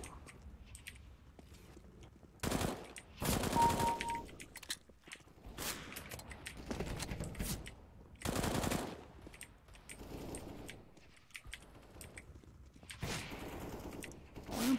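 Bursts of rapid gunfire from a multiplayer shooter video game rattle close and loud in several separate volleys, with quieter shots and footstep-like clatter in the gaps.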